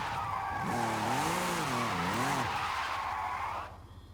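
Tires on an Audi RS5 squeal loudly and continuously while drifting in Forza Horizon, the wavering screech rising and falling over a steady engine drone before cutting off abruptly near the end.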